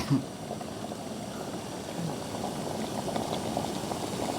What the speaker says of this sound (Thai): เดือดแล้วครับ